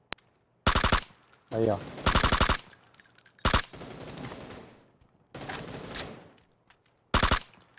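Bursts of automatic gunfire in PUBG: Battlegrounds while the character leans to shoot, several loud volleys separated by pauses, with someone talking between them.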